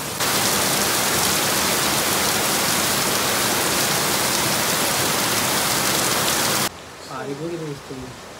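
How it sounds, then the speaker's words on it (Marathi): Heavy rain pours down in Panvel in a loud, steady hiss for several seconds, then cuts off abruptly and a voice speaks briefly. "पनवेलमध्ये पडतो आहे पाऊस आणि असा लागला आहे पाऊस"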